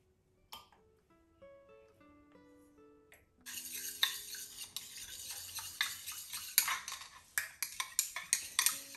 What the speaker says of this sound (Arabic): وهقلبهم كلهم مع بعض